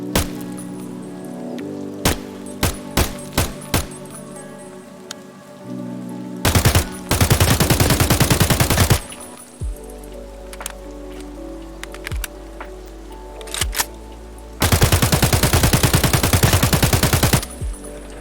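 An AK rifle in Escape from Tarkov fires a handful of spaced single semi-auto shots, then two long loud full-auto bursts of rapid gunfire, with no talking.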